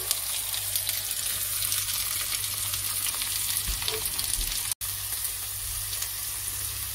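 Chopped ginger, garlic, green chilies and shallots sizzle steadily in hot oil for a lamb curry, a continuous close frying hiss with a brief dropout near the end and no talking.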